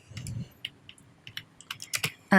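Keys click on a computer keyboard during Blender work. A sparse, uneven run of close keystrokes ends in a louder burst of presses.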